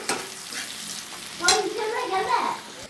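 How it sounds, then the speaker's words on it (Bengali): Onions fry in hot oil until light red, with a steady sizzle and a louder scraping burst as they are stirred in the pan. "এই যে আমার পেঁয়াজ হালকা লাল হয়ে ভাজা হয়ে গেছে"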